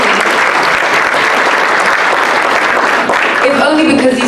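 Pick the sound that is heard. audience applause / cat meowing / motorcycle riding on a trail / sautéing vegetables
audience applause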